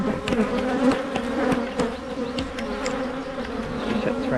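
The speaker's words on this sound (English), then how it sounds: "So I don't know where that swarm" Honeybees swarming around a hive: a dense, continuous buzzing drone, close and fairly loud, with individual bees whizzing past the microphone and no talk.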